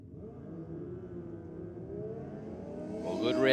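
A drag racing car launches down the strip at an Aeroflow Race 4 Real event, its engine note rising steadily and growing louder toward the end as it accelerates, heard from a distance.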